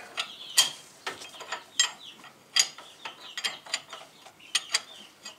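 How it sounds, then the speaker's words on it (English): Wrench ratcheting on a bolt during front brake and rotor work on a 2005 Land Rover LR3, a series of quiet, uneven metallic clicks and ticks, close by and with no voices. "I got it up to 21 millimeter wrench."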